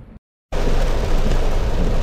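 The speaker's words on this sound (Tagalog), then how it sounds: "Halos zero visibility na dito. Grabe yung ulan. Lakas." Heavy rain pouring down in Roxas City, Capiz, a dense, loud, continuous roar of wideband hiss that cuts in after a brief silence and persists steadily.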